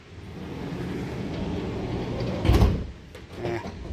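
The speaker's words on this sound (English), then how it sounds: "The door opens very easily now." Sliding side door of a Ford Transit van being opened after adjustment: a low rolling rumble builds, then a sharp heavier clunk near the end, followed by a lighter mechanical rattle.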